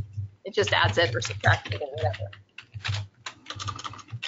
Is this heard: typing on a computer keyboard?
yes